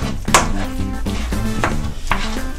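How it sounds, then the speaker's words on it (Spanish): A wooden spoon works through a homemade meat croquette mixture in a pan, giving a series of scraping, knocking strokes against the vessel, close and moderately loud with a low tonal hum underneath. "revolvemos con la cuchara de palo"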